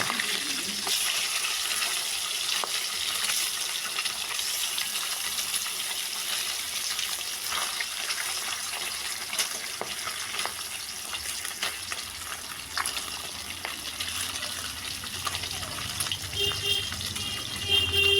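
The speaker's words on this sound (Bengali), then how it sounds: "এক পিঠ ভাজা হয়ে গেলে উল্টে দিয়ে অপর পিঠটিও ভেজে নেব।" Pieces of fish fry steadily in hot oil, a dense close sizzle throughout with occasional soft clicks as they are turned, no talking.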